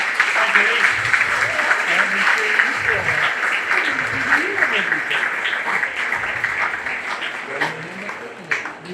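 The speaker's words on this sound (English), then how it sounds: "So please give Goody a round of applause." Applause from a crowd at a county fair opening ceremony, steady and fairly loud across the whole stretch, with voices and some talk mixed in underneath.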